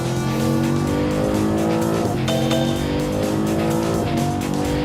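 Off-road car on a rough course, loud engine droning steadily with sharp pitch dips as it brakes and skids, tires squealing briefly, close and continuous throughout.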